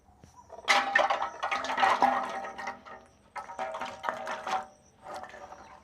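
Karanda fruits washed by hand in water, splashing and sloshing in close bursts with short pauses between them, no talk.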